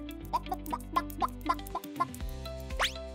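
Hens cluck in a cartoon sound effect, a quick run of short bouncy clucks followed by a rising squawk, clear and close.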